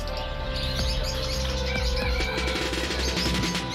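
Pet birds at a bird market in Dhaka chatter and chirp densely and continuously, many small calls overlapping near at hand with a steady background hum of the market, with no voices.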